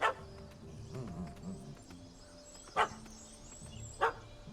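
A puppy barks in a Witcher 3: Wild Hunt Hearts of Stone cutscene, chasing a cat up a tree: three sharp, fairly close barks, one at the start and two later, spaced apart, over a low ambient game bed.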